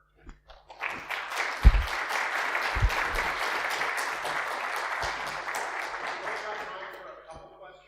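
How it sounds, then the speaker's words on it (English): A conference audience at a security talk starts with a few scattered claps, then swells into sustained applause that gradually fades out, with faint talk underneath. "Oh, sure, clap."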